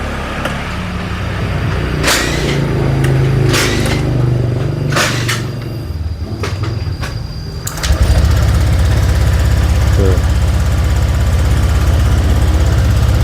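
A Honda Vario 125/150 scooter that has been losing power and stuttering at low revs is switched on with some clicks, then its engine starts about two-thirds through and runs with a loud, steady close idle.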